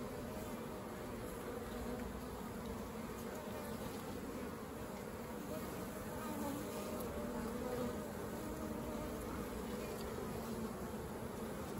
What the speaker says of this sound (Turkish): Maşallah bir sürü de erkek arısı var.